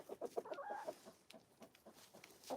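Soft clucking from a white Brahma hen, a quick cluster of clucks and then sparser, fainter ones trailing off, fairly quiet and alone without talk.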